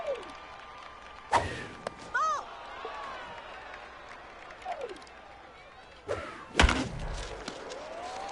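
Sharp bat crack on a baseball in a franchise-mode sports video game, a single loud hit standing out over crowd ambience, with a second heavy thump a few seconds later.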